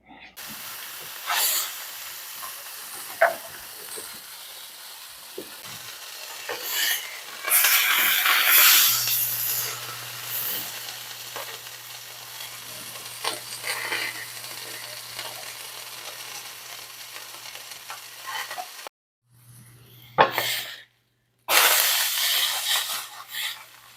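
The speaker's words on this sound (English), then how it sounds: "So I'm going to put this in a frying pan and cook it down" Steady hissing sizzle of food cooking down in a frying pan for beef Wellington, close and continuous, with a low hum and a few brief clatters near the end.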